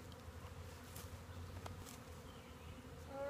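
Honeybees buzz at an open hive during hand inspection, a faint, continuous droning hum from many insects close by, with no talking.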